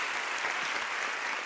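Audience applause after a keynote lecture by Marina Abramović: a soft, distant wash of steady clapping from a large hall, even and sustained without any voices over it.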